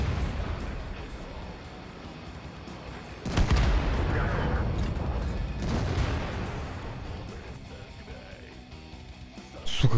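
E100 heavy tank cannon fire in an online tank battle game, a loud boom near three seconds and another near six, with rumbling battle noise throughout and a further sharp burst at the very end.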